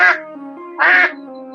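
A large duck at a Kali Puja gathering in Purulia lets out two loud, close, nasal quacks, one at the start and another about a second later, with no talk between them.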